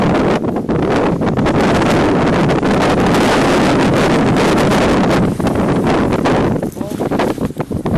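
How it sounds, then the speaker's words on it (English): Strong wind roars steadily across the microphone on Lake George in April, buffeting loudly throughout, with water and a faint boat engine underneath. "Now look at how windy it is."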